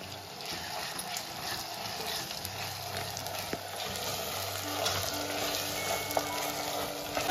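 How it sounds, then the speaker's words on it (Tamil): Tomatoes sautéing in a pan with a continuous hiss and crackle and occasional stirring scrapes. Faint background music or hum runs underneath. "தக்காளி வந்து இன்னும் கொஞ்சம் நல்லா வதங்கணும்."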